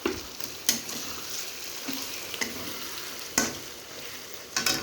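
Mutton sizzles as it is sautéed in a pan, a low, steady frying hiss punctuated by a few sharp scrapes and clatters of a spoon against the pan, close and without speech.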